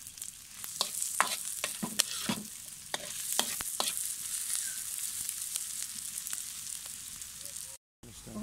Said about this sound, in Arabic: اخلي البصل احمسه ويا الشحم